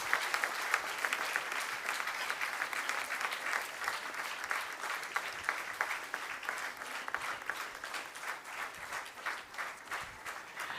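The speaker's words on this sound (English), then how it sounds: "Let us give a big round of applause to all the kids." An audience gives a sustained round of applause for a group of kids, even and continuous clapping with no voices on top.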